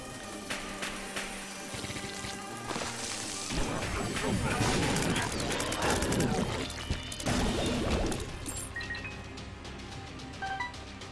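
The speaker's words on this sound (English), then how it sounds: "Are my Bob's brain explosions doing the sad bomb effect as well?" Explosions and crashing game effects from the video game The Binding of Isaac: Rebirth, with a dense run of smashing bursts over several seconds under music, then easing off.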